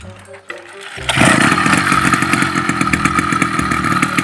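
Small engine of a motorized bicycle fitted with a stainless exhaust tip starts with a short sputter, then runs loud and close with a raspy, fast-pulsing buzz that holds steady to the end.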